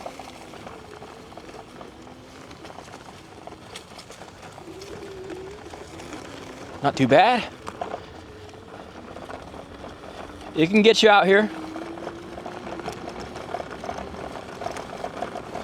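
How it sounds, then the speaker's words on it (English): The motor of a 1200W electric commuter scooter hums faintly and steadily while it climbs rough off-road ground, joined by gravelly rattles and a rider talking over it, with two brief louder bursts of wind or handling noise. "I can hear the motor working"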